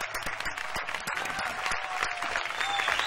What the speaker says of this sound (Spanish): fuerte aplauso para ella